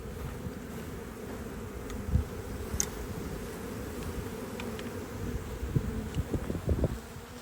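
A honeybee swarm shaken off a hand over a hive makes a steady, dense buzzing drone that holds for several seconds, with a few louder close passes toward the end.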